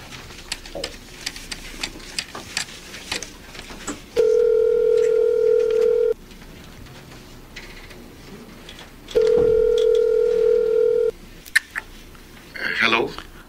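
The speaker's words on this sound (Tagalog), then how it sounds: "Tatawagan ko si Marlon." A landline telephone ringback tone sounds in two long steady bursts with a pause between, set amid background noise and faint bird cooing before a call is answered.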